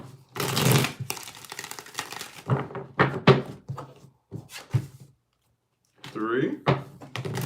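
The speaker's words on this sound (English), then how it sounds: "Let's get 5 shuffles." Tarot cards being shuffled by hand, a few quick riffling bursts separated by pauses, heard close and mixed in with a person talking.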